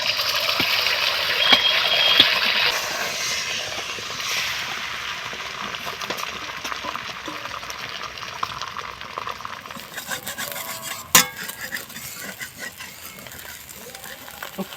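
Beaten egg is poured into a hot pan of oil for an egg and aubergine dish, giving a bright, steady sizzle that is strongest at first. It then eases into a softer, continuous frying hiss with small pops.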